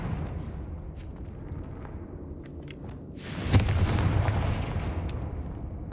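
A Confringo fire spell explodes in the game Hogwarts Legacy, a sudden booming blast about halfway through that rolls into a rumbling, crackling tail over a low background bed.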